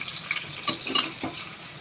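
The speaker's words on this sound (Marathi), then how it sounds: "आता मी या टोपामध्ये तेल घातलेलं आहे आता त्यामध्ये जिरं घालते कढीपत्ता घालते" Oil in a pot sizzling as cumin seeds and curry leaves go in for a tempering for dahi kadhi with pakoras, a brief crackle with a few sharper pops, fairly soft and close.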